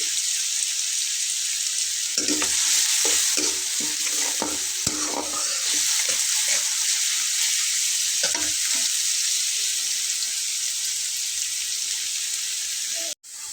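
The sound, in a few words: onions frying in a pan for fish curry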